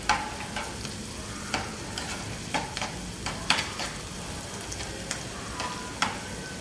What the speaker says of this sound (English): You fry it, but then you can add pepper, little sugar.